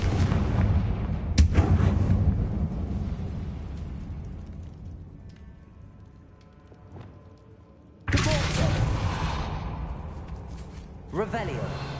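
A Confringo blasting spell in Hogwarts Legacy bursts twice, each a loud, sharp boom with a long rumbling decay; the second blast comes about six seconds after the first, with a smaller crackle near the end.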